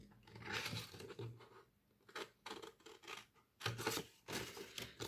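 Scissors cutting paper for an ATC card in a scrapbooking craft session, a close series of crisp snipping and rasping strokes in irregular bursts separated by brief pauses.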